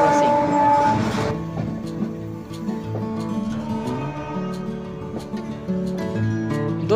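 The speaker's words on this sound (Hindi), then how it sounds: "और यहाँ हो रही है हमारी ट्रेन के साथ मालगाड़ी ट्रेन की क्रॉसिंग।" The Mourya Express passenger train crosses a goods train in India, a long, steady rumble of wheels and rail clatter with repeated rhythmic clicks and sustained tonal hum, heard from on board.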